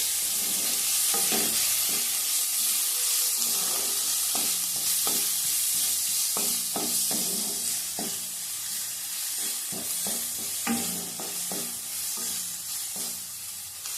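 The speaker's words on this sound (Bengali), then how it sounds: "একটু কাশ্মীর লঙ্কার গুঁড়ো দিলাম আবার একটু ভালো করে কষিয়ে নেব" Spices with turmeric and Kashmiri chili powder are sautéed in a pan for aloo dum, a steady close sizzle with repeated stirring knocks and scrapes throughout, and no voices.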